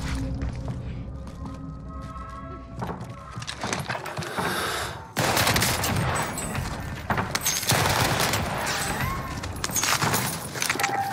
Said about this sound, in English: Was that shooting at me, chat